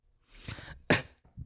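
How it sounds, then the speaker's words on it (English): A sudden sharp, sputtering burst from choking on saliva, sounding like a sneeze, after a soft breathy build-up, then a brief low sound. "I choked on my spit"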